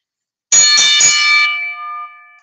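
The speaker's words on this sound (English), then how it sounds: "the best way to get going is we ring the bell" Wrestling ring bell struck three times in quick succession to start a match, loud and close, the metallic ring then sustaining and fading alone.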